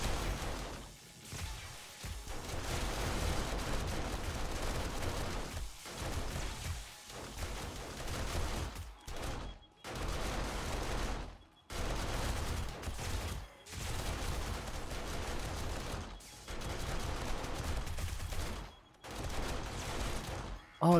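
Sustained bursts of automatic gunfire in the zombie survival game 7 Days To Die, a red-dot-sighted weapon firing in long loud volleys broken by short pauses, with no talking over the shooting.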